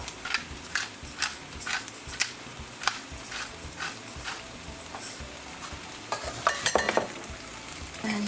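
Fried rice with chopped celery, chive and black pepper stirred in a pot, giving a repeated scraping and clanking rhythm over a low sizzle, close and fairly loud with no talking.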